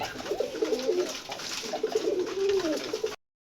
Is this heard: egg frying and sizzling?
no